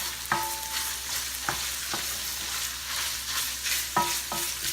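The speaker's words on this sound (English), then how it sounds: "we'll just stir that around for a minute so it gets fragrant" Beef and pork with vegetables for egg rolls frying in a pan, a steady sizzle broken by several sharp spatula knocks and scrapes as the mixture is stirred, close and without voices.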